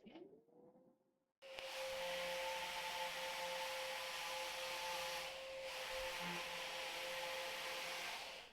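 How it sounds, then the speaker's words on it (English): An angle grinder fitted with sanding pads sands wood while refitting a boat, running with a steady, loud abrasive whir for several seconds. It starts abruptly after a brief quieter moment and has no talk over it. "having used the new grinder with the pads that Mads recommended"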